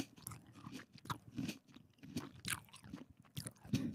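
Crisp sweet grapes bitten and chewed right at the microphone, a series of close, wet crunches and mouth sounds in an uneven rhythm over four seconds, with no talk.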